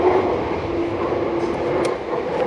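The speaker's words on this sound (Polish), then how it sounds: "Czekajcie, bo jedzie pociąg." A train passing in London, a steady broad rumble with a faint tonal hum running through the whole stretch, fairly loud and continuous with no talk over it.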